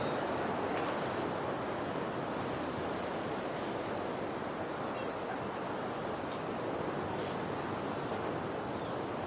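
Ocean waves roll in and break at the Sea Harvest South African Open surf championships, a continuous broad wash of surf mixed with wind buffeting the microphone, steady and fairly loud, with no talking.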